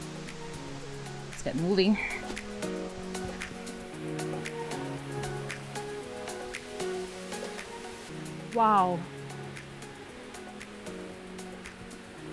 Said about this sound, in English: I listen to the sound of water cascading down the rocky slopes